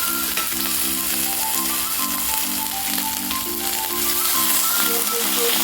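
Ginger garlic paste frying in a hot pan: a loud, continuous crackling sizzle heard up close, with faint music playing underneath.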